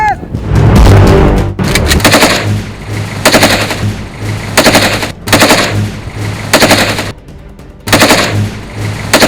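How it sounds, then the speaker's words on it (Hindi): Indiscriminate automatic gunfire pouring down from surrounding mountains, loud, rapid bursts repeating over and over with brief pauses between volleys. "मुख्तलिफ पहाड़ों की जानिब से अंधाधुंध फायरिंग का सिलसिला शुरू हो गया।"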